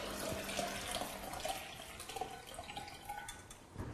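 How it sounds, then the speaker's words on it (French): Homemade lemonade with lemon zest pours through a small kitchen sieve, giving a steady close trickle of liquid that runs without a break and with no talking. "Je filtre avec une petite passoire pour récupérer les zestes de citron."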